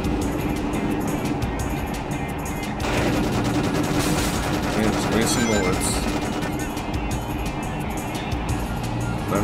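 Enemy gunfire in the PC version of Sonic Adventure 2, dense rapid shots layered over loud game music and effects, with a player talking over the action.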